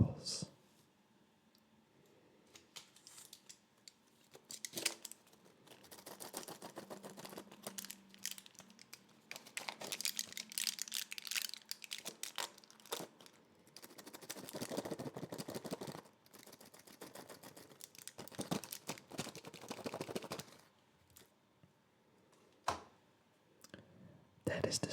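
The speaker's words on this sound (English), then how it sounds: "That is the sound of staples." Staples handled close up, soft scattered clicks, rattles and rustling bursts at low volume, with a quiet voice also present.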